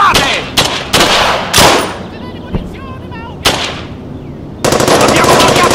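Machine guns in a WWII battle game fire in loud, close bursts with separate sharp shots between them, ending in a sustained stretch of heavy automatic fire; no voices are heard.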